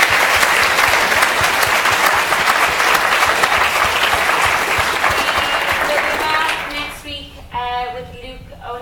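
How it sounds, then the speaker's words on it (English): Sustained audience applause closes a science lecture on climate catastrophe, a dense loud clapping that fades out toward the end, with a voice speaking over the last few seconds. "We'll give you a round of applause"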